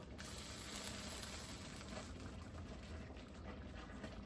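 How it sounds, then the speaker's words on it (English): A venison, stout and chestnut stew is stirred in a pot, making a continuous wet, bubbling churn with a faint scraping texture that holds steady throughout, and no one speaks. "We're going to give it a good little stir here."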